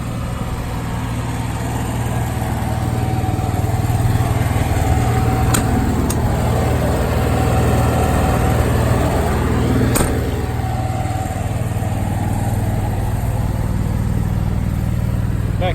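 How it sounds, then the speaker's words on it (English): An Onan 5500 generator running on a 2015 Thor Outlaw gas Class A motorhome gives a constant low droning hum, steady and fairly loud, with a couple of faint clicks over it. "I forgot to turn off the generator"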